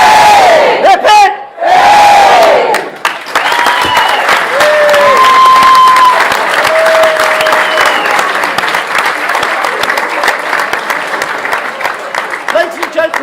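Wedding reception crowd shouting a cheer together, then sustained loud applause and cheering from many guests in a room, with a voice calling out at the start.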